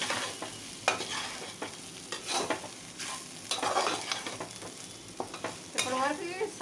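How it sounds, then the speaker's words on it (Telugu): Ivy gourd fry with chili powder being stirred in a pan over low heat, repeated scraping strokes of a spatula over a soft sizzle, close and uneven in rhythm. "ఒకసారి మొత్తం కలుపుకోండి."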